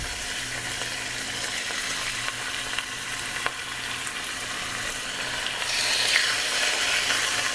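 Chicken cutlets for lemon chicken piccata fry in a pan, giving a steady, even sizzle with no talking.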